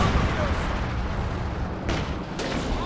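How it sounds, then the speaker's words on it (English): Mortar firing during a Company of Heroes 2 battle, a dense rumble of booms and artillery blasts under continuous game noise, with a couple of sharper reports near the end and talking over it. "Here goes the mortar."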